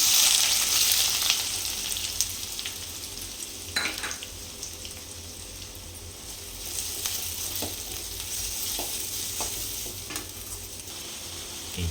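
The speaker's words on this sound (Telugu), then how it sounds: "తర్వాత ఆనియన్స్ వేసుకుందాం." Onions fry in hot oil over seasoning spices for a curry, a continuous close sizzle with scattered stirring scrapes and clicks, fairly loud throughout with no talk.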